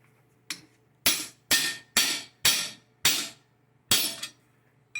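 A hammer drives a long bushing driver handle into a 4L60E automatic transmission case: about seven sharp metallic blows in a fairly regular rhythm, close and loud, each ringing briefly before the next, with no voices.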